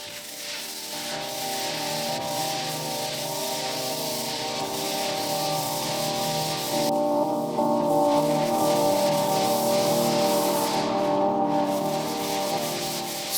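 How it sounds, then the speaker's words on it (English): Steady abrasive rubbing of sanding dried drywall mud on a wall, continuous and close, with no voices. "sanding down everything I mudded."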